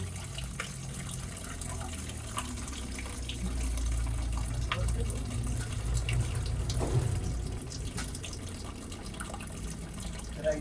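Water is poured steadily into the radiator of a Maruti Esteem during a flush, a continuous soft splashing and gurgling stream heard close by, fairly quiet, with no talk.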